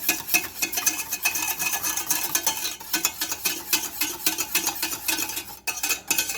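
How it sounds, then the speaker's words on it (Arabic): A spoon scrapes and stirs briskly through orange cake batter mixed with butter in a bowl, a rapid, close, rhythmic sound with no talking. "نخلطوها مزيان."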